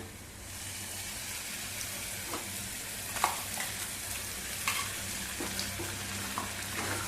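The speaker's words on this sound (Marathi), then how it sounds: "आता चांगलं परतवून घेऊया तेलावरती." Coconut paste and grated potato fry in oil in a pan over low gas, a soft continuous sizzle with occasional spoon scrapes and stirring clicks, fairly quiet and close, no voices.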